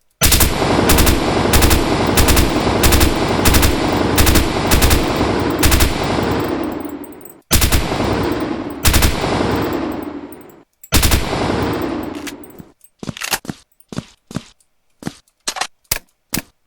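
Soviet Rifle Mark II fire in the video game Rogue Planet 2: loud, close, rapid automatic bursts with brief pauses, ending in a string of sharp, separate single shots.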